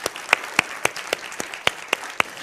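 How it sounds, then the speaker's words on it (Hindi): A studio audience at a Hindi television debate show claps to welcome the panel speakers: a thin run of about nine sharp, evenly spaced claps, close and fairly loud, as if from only a few pairs of hands. "तालियों के साथ आप दोनों का बहुत बहुत स्वागत।"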